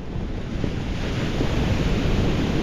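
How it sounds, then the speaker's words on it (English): Ocean waves roll in under constant wind, a dense, continuous rush of surf with buffeting wind noise on the microphone and no voices. "leave the camera on to the rhythmic sounds of the ocean waves"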